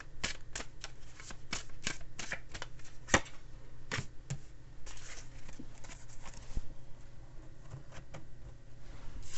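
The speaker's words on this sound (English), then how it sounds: "I always pull an extra card, and I like to use my Chinese deck here" A Chinese tarot deck gets handled and shuffled, with a close, soft run of crisp card riffles, slaps and flicks stretching over several seconds at low volume, with no talking.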